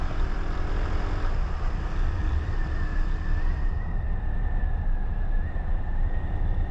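A motorbike speeds up along a wet, rain-soaked city street, its engine a steady rough drone with a rising whine and hiss of tires and wind, close and continuous with no talking.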